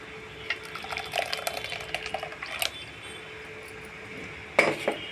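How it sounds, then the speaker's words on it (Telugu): Beetroot juice being strained, with light liquid trickling and clinks of metal utensils against a vessel, scattered soft clatters and a louder knock near the end, no talking. "ఇప్పుడు ఈ జ్యూసు వడకట్టుకోవాలండి. మొత్తం వడకట్టుకొని"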